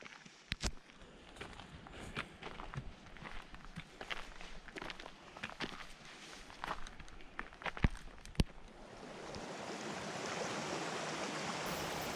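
A mountain creek rushes steadily at a trail crossing in a wilderness area, with footsteps crunching over it for most of the stretch and the water swelling into a louder, unbroken wash near the end.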